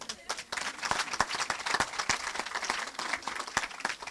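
A youth vigil crowd claps for the Lord, with sharp individual claps standing out over a fainter sustained ovation that runs throughout.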